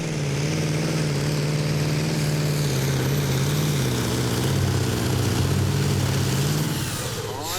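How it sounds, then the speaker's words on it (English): A roaring 2,000-horsepower Iveco V8 engine on a pulling tractor at a Danish championship tractor pull in Herning, loud and sustained with a rising and wavering drone before easing off at the end. "The big Iveco V8 springing to life."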